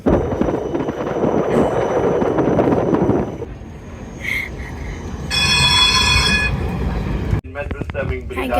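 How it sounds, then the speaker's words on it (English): A passenger train bound for Amsterdam rumbles steadily along the rails from inside the carriage, the heavy low roar easing after a few seconds into quieter running with brief high metallic squeals and tones. "we are in a train and we are going to Amsterdam today."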